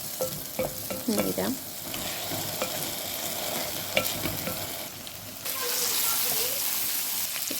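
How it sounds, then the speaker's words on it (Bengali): Rice and lentils fry with onion and garlic in oil for khichuri, a dense crackling sizzle with stirring scrapes, swelling louder in the last seconds, and a voice speaking briefly early on. "পেঁয়াজ আর রসুন দিয়ে প্রথমে দাগনি দিয়ে আমি চাউলটা বেজে আর ডাল বেজে"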